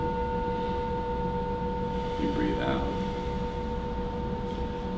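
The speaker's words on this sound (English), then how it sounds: "listen to the sound of the bell" A relaxation bowl bell rings with a steady sustained tone that hangs evenly and fades slowly, close and moderately loud over faint background noise, with a brief soft voice-like sound partway through.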